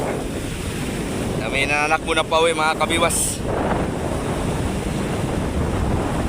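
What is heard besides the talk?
strong wind and waves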